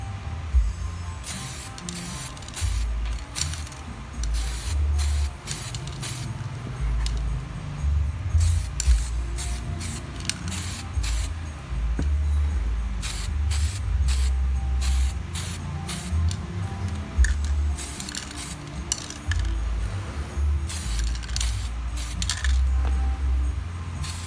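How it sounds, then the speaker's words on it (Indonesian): Bursts of airbrush spraying with orange Titan Premium paint, short repeated hissy blasts in quick sequences, close and fairly loud, separated by brief pauses, with no speech. "lanjut ke penyemprotan 9355 bit orange dari Titan Premium"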